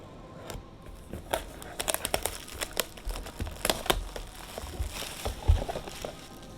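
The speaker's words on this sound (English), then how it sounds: "Let's rip this thing open." Board game box packaging being torn open and handled, with sharp plastic-wrap crinkles, crackles and tearing bursts in an uneven run up close, loud against a quiet room.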